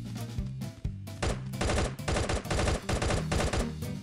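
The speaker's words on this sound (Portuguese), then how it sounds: "joguei uma granada sem querer." Gunfire in the video game Guns of Boom, rapid bursts of automatic shots with heavy booming impacts, loud and close, firing in dense rolling volleys that pause only briefly.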